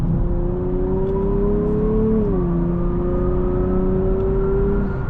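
A 2024 Nissan Z Heritage Edition with a 400-horsepower engine drones steadily from inside the cabin as it accelerates, its pitch rising, dipping briefly at a gear change, then climbing again, loud and continuous with no talk.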